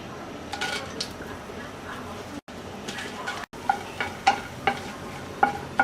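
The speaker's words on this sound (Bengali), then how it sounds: "প্রথমে আমরা শুকনো মরিচটা ভেজে নেব।" Dried red chillies frying in a little oil in a wok-style pan, a moderate sizzle broken by several sharp clinks and scrapes of stirring, with no talking.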